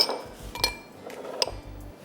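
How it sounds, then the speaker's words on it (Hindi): A lid goes down on a pot of pasta and spinach, giving several bright metallic clinks and clatters with dull knocks between them, close by and fairly loud. "इसके ऊपर मैं ढक्कन ढाँक देती हूँ ताकि पालक जल्दी से विल्ट हो जाए"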